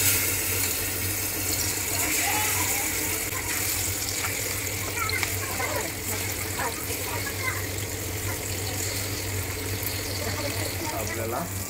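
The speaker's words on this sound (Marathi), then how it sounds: "आता फ्राय करून घेऊ." River fish fry in oil in a pan on a stove, a steady close sizzle with scattered crackles over a low background hum, with some faint talk in the background.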